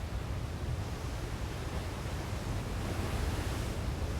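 Large ocean waves break and surge at Jaws, Hawaii, off a ridge of lava and coral, making a steady, dense roar of surf with no voices.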